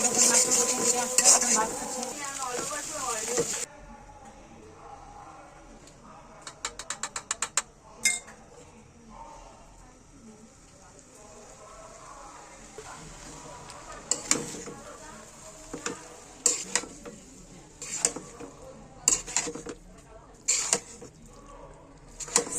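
Noodles are stirred in a cooking pot with a metal utensil, giving scattered scrapes and clinks of varying loudness after a burst of louder noise at the start, close and intermittent.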